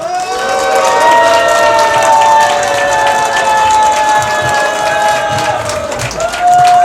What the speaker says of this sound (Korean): 다시 한번 크게 박수 부탁드리겠습니다